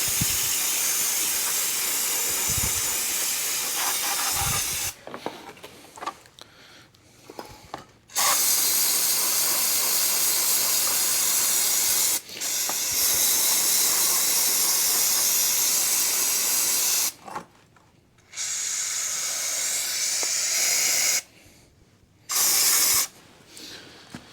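CRC parts-cleaner degreaser and then brake cleaner are sprayed from aerosol cans onto a 1949 engine being prepped for a swap: long, loud, hissing bursts separated by short pauses, with no talking.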